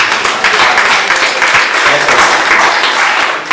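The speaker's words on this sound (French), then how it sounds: "Il faut vraiment l'applaudir, il faut vraiment le féliciter" A crowd at a town hall gathering in Keur Massar claps loudly for a speaker, dense continuous applause filling the room throughout.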